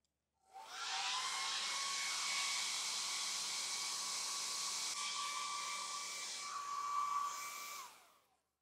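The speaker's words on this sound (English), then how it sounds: "I'm going to dry it off with the hairdryer first." A hairdryer blows steadily to dry paint on a watercolor botanical page, a loud continuous whooshing drone with a whining tone that switches on, runs for about seven seconds and cuts off, no talking.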